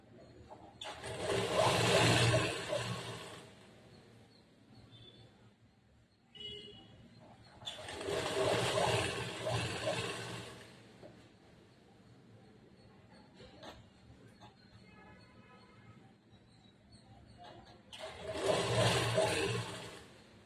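A sewing machine stitches a chudidar pant in three separate bursts of loud whirring run, each a few seconds long, with quiet pauses between and faint background sounds.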